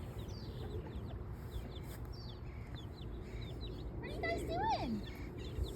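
Backyard hens cluck and murmur softly nearby in scattered bursts, with someone talking over them.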